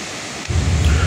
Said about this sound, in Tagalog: nakita na nga natin yung kaganapan dito nga sa Tamaraw Falls